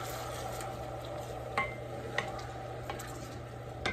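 Chopped vegetables sauté in butter in a pan for a Thanksgiving sausage stuffing, giving a steady low sizzle with a few light utensil clicks and scrapes spaced across the moment.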